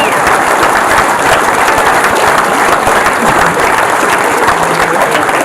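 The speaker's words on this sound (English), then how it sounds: "Round of applause. Give it up." A crowd breaks into loud, sustained applause at the unveiling of a football, steady dense clapping that fills the whole stretch without a break.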